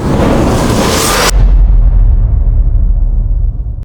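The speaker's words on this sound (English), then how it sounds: "Whoosh Cinematic Reverse." A cinematic reverse whoosh swells to a loud, bright rushing peak, cuts off abruptly, and gives way to a deep booming low rumble that slowly fades. It plays alone, with no voices.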